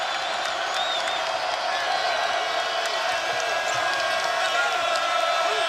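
Basketball crowd roaring in the Coliseum in Morgantown during a West Virginia versus Kansas State game, a continuous loud arena din with a commentator talking over it.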